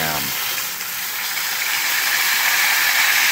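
With the lid knocked off, pork ribs in soy sauce spatter loudly in a pan inside a van. The hiss is harsh, dense and constant, sizzling steadily throughout at close range.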